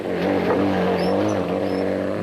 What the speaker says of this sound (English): The Ford team got their 3rd car to the finish when Harkus and Moore appeared.